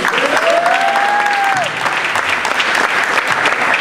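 Crowd claps steadily for a senior player at a 2014 senior night ceremony, dense applause throughout with a brief whistle-like tone rising and falling early on.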